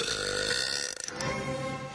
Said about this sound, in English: has an entire section dedicated to burps